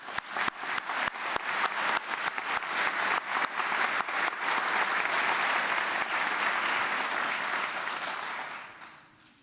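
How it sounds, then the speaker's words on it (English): A round of applause at a city police department awards ceremony: sharp individual claps quickly swell into full, sustained clapping from a large indoor audience, then fade away near the end. "Let's give a round of applause."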